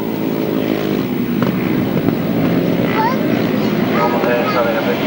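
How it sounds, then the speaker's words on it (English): A grasstrack racing motorcycle with a misfiring engine passes at a 1992 grasstrack meeting, its rough drone steady throughout and broken by a few sharp pops and bangs, with a commentator's voice over the top. "Having a bit of engine problem by the sound of that. He goes past, popping and banging."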